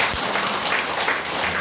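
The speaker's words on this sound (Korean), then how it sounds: "박수 한번 주세요" Audience applause at a barefoot-walking lecture, a dense steady wash of many hands clapping at moderate level throughout, with no talk over it.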